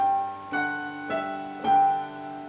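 Piano plays three sustained chords from Canon in D in a slow, even sequence, each struck note ringing out clearly and softly decaying.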